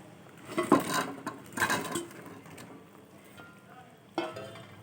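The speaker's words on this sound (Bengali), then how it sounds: "এইবার আমি এর মধ্যে ভেজে রাখা বড়াটা দিয়ে দেবো" Fried fish-egg fritters slipped into a simmering potato curry, giving a couple of soft splashy clatters and a brief sizzle around the pan, with quieter clinks of utensil near the end.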